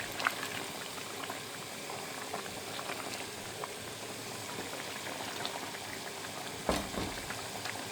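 Food cooks in a Kashmiri pot with a steady, busy bubbling and sizzling that holds through the whole stretch, with one brief knock near the end.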